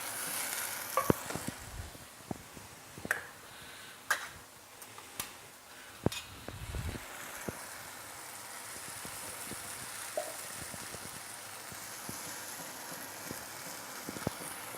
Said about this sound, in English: Add 2 tins of crushed tomato.